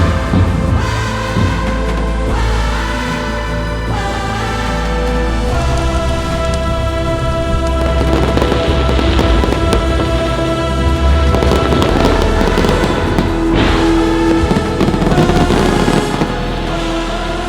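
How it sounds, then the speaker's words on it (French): Fireworks at the Biot Templars medieval festival crackle and boom continuously amid a dense, roaring crowd-like wash, with bursts and sparkling crackles layered throughout. "descendre dans les petites rues et rejoindre tout le bas de Biot pour assister au feu d'artifice"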